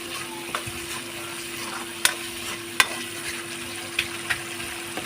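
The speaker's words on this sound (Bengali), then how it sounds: "এবার ফ্লেমটা জোরে দিয়ে দেবো আর একটু কষিয়ে নেবো আমি" Khichuri of rice, dal, cauliflower and potato is stir-fried in a pan over high flame, giving a low steady sizzle with a few distinct scraping knocks as the spoon turns it.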